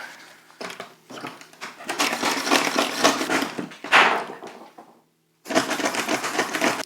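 A blade cutting through a hard, rotting cactus root in a repotting job, with bursts of crunchy, scraping rasps separated by short pauses, close and fairly loud.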